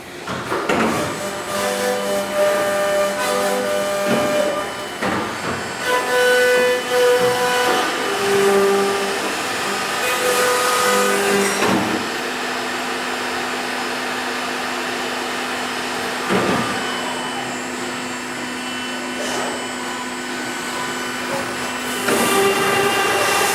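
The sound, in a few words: 990-APEX machine running its start sequence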